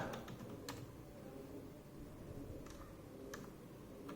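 Someone types on a Dell KB216 wired USB multimedia keyboard, with scattered light key clicks over a low background hum. The clicks are faint and sparse, and no one speaks.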